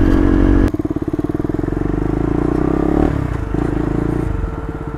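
A KTM Duke 250 motorcycle with a newly fitted aftermarket exhaust idles close by, then revs with a loud, rapid pulsing burble that holds steady before easing off slightly.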